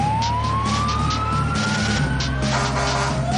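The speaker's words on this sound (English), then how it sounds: "The fire engine." A fire engine siren wails loudly and continuously, its rising tone sweeping upward and then dropping, with a rumbling engine underneath and no talk.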